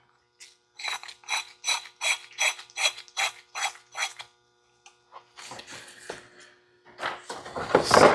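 A ratchet wrench with a 1.1 inch socket tightens a bolt on a barn-find Lincoln's brake system, about a dozen crisp, evenly spaced clicking strokes up close, followed by a pause and scraping, rattling handling noises.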